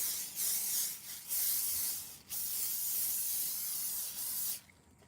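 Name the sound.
spraying avocado oil spray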